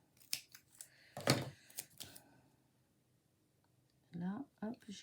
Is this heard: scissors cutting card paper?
yes